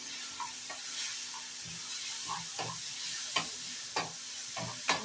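Chira flakes with cumin powder and turmeric fry in a pan, giving a steady soft sizzle broken by repeated scraping stirs of a spoon, with no talking.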